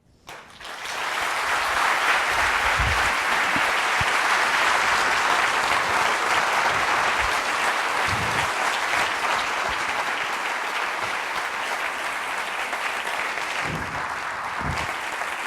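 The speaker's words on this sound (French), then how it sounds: "applaudissez pas trop parce que suite ça prend sur le temps" An audience applauds after a conference talk on altruism and economic peace for business, steady dense clapping that swells quickly, holds loud for about fifteen seconds and only slightly thins toward the end.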